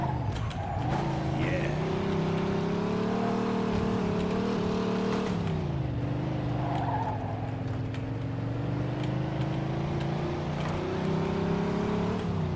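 Car engine droning at high speed in the video game Mafia 2, steady and sustained with shifting pitch as it accelerates, plus faint tire squeal, no talking.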